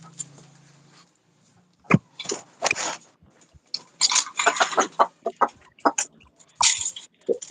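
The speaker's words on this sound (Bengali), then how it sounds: "আমার মুরগি গুলারে খানা দেই।" Chickens cluck and squawk in short, irregular bursts close by after a quiet start, with a brief low hum at the beginning.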